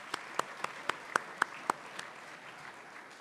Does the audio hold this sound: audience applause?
yes